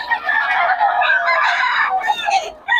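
A rooster crows loudly and close by, one drawn-out call that fades into a shorter crow at the end.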